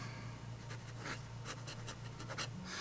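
A Reflections 3 in 1 pen writes on paper close up, giving soft, continuous scratchy strokes with a few louder flicks, faint and steady over a low background hum.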